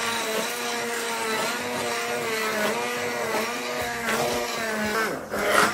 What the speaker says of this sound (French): on mixe très finement